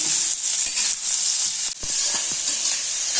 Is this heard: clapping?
no